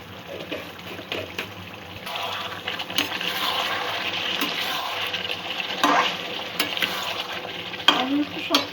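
Chicken pieces being stirred in a pan for curry, a steady close sizzle and frying hiss with scraping and sloshing of the spoon through the meat, continuous throughout.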